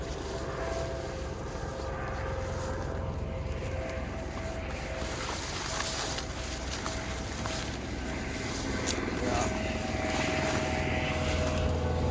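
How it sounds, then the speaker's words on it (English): A helicopter passes over a sea cave valley on Maui, heard as a continuous loud rotor and engine drone that fills the whole stretch without breaks, with no talking. "a helicopter."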